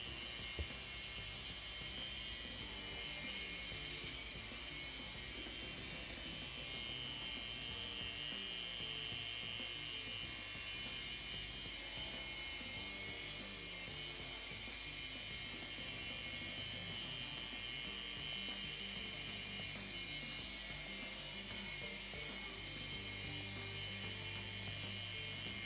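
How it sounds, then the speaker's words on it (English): A car polisher runs at low speed, spreading liquid into a vehicle's clear coat, giving a steady, continuous mechanical whir and buzz that stays level throughout with no talk. "I'm going to turn the polisher down on the low speed and just gently massage it into the clear coat."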